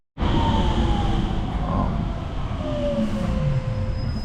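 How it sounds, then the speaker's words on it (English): A Paris subway train rumbles loudly and steadily throughout, with a rising and falling whine of wheels and motors and a brief high screech near the end. "I'm going to show you guys the subway until we also reach at the Eiffel Tower."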